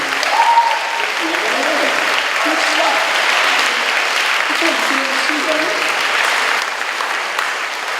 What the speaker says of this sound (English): let's have a round of applause for him for your representative